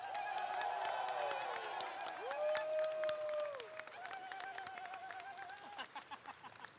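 A crowd applauds and cheers loudly for the EVO 2018 Injustice 2 medalists at a fighting game tournament, with dense steady clapping, whoops and whistles rising over the noise, easing slightly toward the end.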